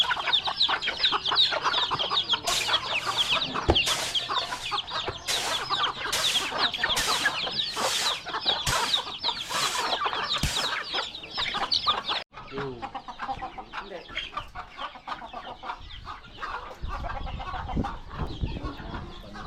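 Striped chickens clucking steadily and close, with repeated sharp calls in the first half and busier farmyard fowl sounds continuing after a brief break, no talk over them.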